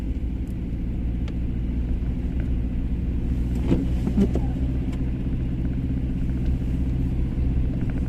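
Car moving along a snow-covered street in Konya, a steady low engine rumble close by with faint clinks and scrapes on top, no talking.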